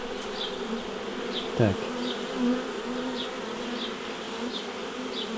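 Honeybees buzz steadily around a nucleus hive during an apiary swarm check, a continuous close hum with a brief louder thump midway and a single short spoken word.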